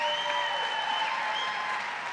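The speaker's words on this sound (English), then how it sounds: "give yourself a big round of applause" Applause from the audience at a tri-county sheriff's forum, a steady even wash of clapping heard from a distance, fairly soft and unbroken, with no speech over it.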